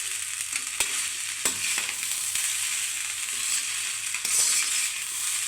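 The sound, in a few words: stir-frying fried rice with soy sauce in pan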